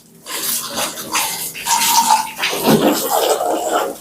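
Water sprays and splashes in uneven hissing bursts, close by, while washing an electric scooter, with no one speaking.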